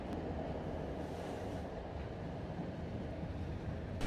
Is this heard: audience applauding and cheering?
no